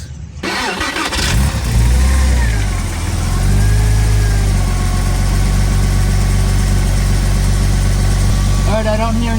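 A Porsche 986 Boxster engine cranks and catches, briefly revs, then settles into a steady, close idle that runs loud and continuous, with a short mechanical clank near the end.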